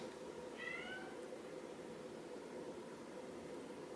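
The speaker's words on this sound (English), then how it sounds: "It sounds like Ringo's meowing" A single faint cat meow rises briefly near the start over a steady hiss of background noise, with the rest of the moment quiet and no voices.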